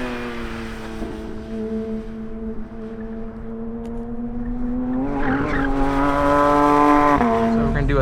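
Porsche 911 GT3 RS engine droning steadily at close range, then rising in a sharp rev blip near the end as it downshifts, with tyre and road noise underneath.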